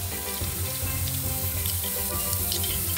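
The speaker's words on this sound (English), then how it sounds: "we're gonna place the meat inside the pot." Oxtail meat laid into hot oil in a heated pot for a Dominican oxtail stew, giving a loud, steady, close sizzle and crackle that never lets up, with no one speaking.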